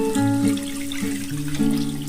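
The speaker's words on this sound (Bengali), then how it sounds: "মশলাটা আমার কষানো হয়ে গেছে, এবার দেখো আমি দিয়ে দেবো জল।" Water is poured from a vessel into cooked mustard-poppy spice paste for pabda fish curry, giving a short, close pouring trickle with a shifting tone that lasts about two seconds.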